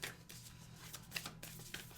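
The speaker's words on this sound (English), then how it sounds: "It's all live shuffle on camera or live draw on camera." Oracle cards are shuffled by hand in a quiet room, giving soft, faint riffling and flicking bursts in an uneven rhythm.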